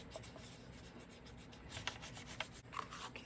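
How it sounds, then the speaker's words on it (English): Paper pieces for a handmade mini album are burnished down by rubbing, giving quiet dry scratchy strokes that grow a little firmer toward the end, close and faint with no talk. "Then I'm just going to burnish that down."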